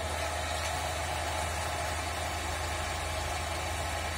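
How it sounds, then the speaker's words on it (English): AC alternator in an electrical machines lab running steadily at about 1500 rpm synchronous speed, a constant near hum with low steady tones and even mechanical whir, no talking. "synchronous speed of alternator is about 1500 rpm"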